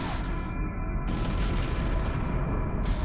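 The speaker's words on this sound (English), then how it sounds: "Big explosion, Vexor Navy issue in pieces" A Vexor Navy Issue ship exploding in the EVE Online space game, with a loud sustained boom and rumbling burst that fills the whole stretch before cutting off.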